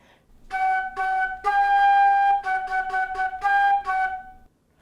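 A flute plays measure 14 of a song, a clear run of short separated notes with one longer sustained tone, solo and close.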